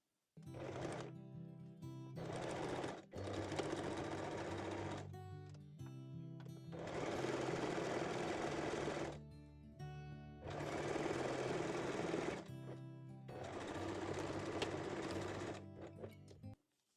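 A sewing machine stitches the crotch piece of lace panties in several bursts of rapid, buzzing whirring, each a couple of seconds long, separated by short pauses with faint clicks, close and clear.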